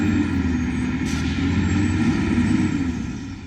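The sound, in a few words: truck stuck in a field during trailer house delivery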